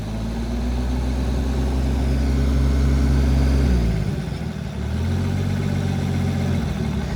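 Oliver Super 77 tractor engine running close by with a steady low throb that sags and rises again as the governor hunts, surging in speed partway through.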